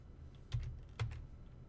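Typing on a computer keyboard: two quick bursts of key clatter, close and quiet, with soft low hum between them.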